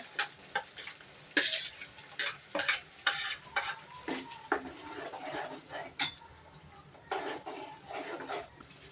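Ground masala paste for a fish curry fries in a pan, with repeated scraping stir strokes and clinks of a spoon against the metal pan over a soft sizzle, close and fairly loud, with no talk.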